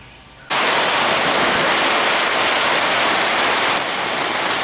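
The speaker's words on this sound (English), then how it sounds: "we had like some torrential rain and winds" Torrential rain and wind lash a carport: after a brief quieter start, a sudden loud, steady broadband roar of heavy downpour pounding the roof fills the rest, dense and continuous with no talk.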